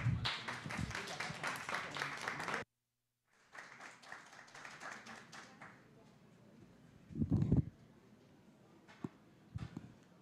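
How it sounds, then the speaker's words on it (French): An audience claps for a presentation, a dense burst of applause lasting a couple of seconds that stops abruptly, followed by a short silence and then a voice speaking with some room noise. "on va l'applaudir pour l'encourager pour sa présentation"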